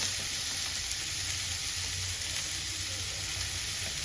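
Coconut powder and curry spices sizzling steadily in a hot pan for a chicken curry, a continuous close frying hiss with faint stirring underneath.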